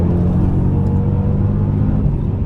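A Mercedes CL55 AMG accelerating hard in sport mode, its engine a loud, continuous low roar heard from inside the car, steady and strong throughout.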